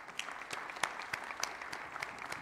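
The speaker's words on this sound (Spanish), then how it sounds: "Y pido un fuerte aplauso para Martín Yarjor también" A crowd claps steadily and fairly loudly at a property deed handover ceremony for families, with a dense patter of many hands and a few sharper individual claps standing out, and no voices.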